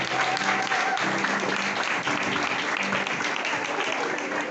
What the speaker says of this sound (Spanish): Muy bien, un aplauso nuevo.